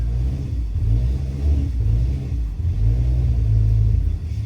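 An engine strains under load on a 1200 imp dyno run, a loud, deep rumbling drone that surges and sags in uneven waves across a few seconds, with no voices over it.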